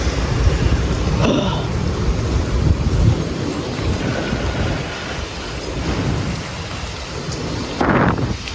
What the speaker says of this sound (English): Now I feel the rain getting heavy.